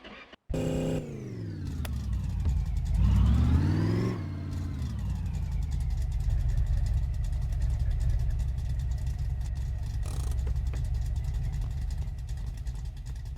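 A pickup truck engine in a car mechanic simulator video game starts, revs with a rising whine, then drops to a steady driving drone that continues to the end.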